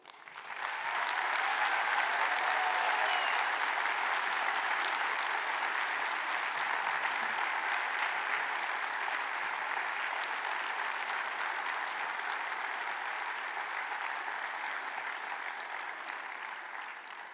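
A graduation audience at a sports school ceremony applauds the graduates in a long, dense, even wash of clapping that swells quickly, holds steady for over fifteen seconds and tapers slightly at the end, with no talk over it.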